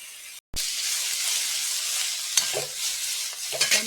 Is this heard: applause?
no